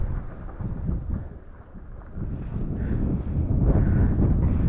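Strong wind in a snowstorm on the San Juan River, New Mexico, buffets the microphone in low, gusty roars that build toward the end, with no talking.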